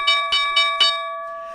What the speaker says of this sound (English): There is the closing bell